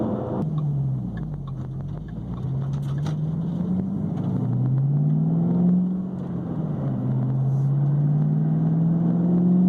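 A 2018 Ford Mustang EcoBoost with the performance package on the road, its engine a steady low drone inside the cabin that rises and eases as the car accelerates and shifts, no talk.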